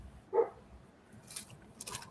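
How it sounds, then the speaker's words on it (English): A neighbour's dog gives one short bark nearby, standing out against a quiet room, followed by faint rustling and small handling noises from a book-making craft session. "Sorry, neighbor's dog."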